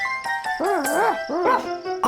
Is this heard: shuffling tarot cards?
no